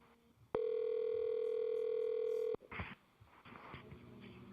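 During a phone call, a steady telephone dial tone holds loud and unbroken for about two seconds, then cuts off into faint line noise and clicks.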